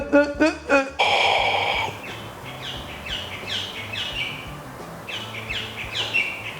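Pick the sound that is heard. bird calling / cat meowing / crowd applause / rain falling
bird calling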